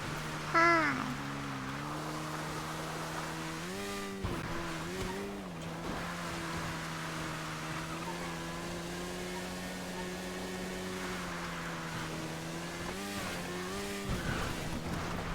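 A car driving fast on sand gives a steady, loud engine drone that rises and falls in pitch through shifts and revs, with brief tyre-like squeals near the start.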